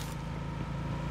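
Steady low engine rumble of an approaching vehicle in PUBG Mobile on the Livik map, a continuous droning hum with no break, fairly loud and alone.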